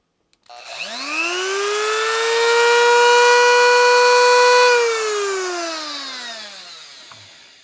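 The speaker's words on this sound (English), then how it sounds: "It's the Marathon 4 micrometer rotary cutting tool." A Marathon 4 micromotor rotary cutting tool spins up to maximum RPM with a rising whine, holds a loud, steady high-pitched tone, then winds down as it slows.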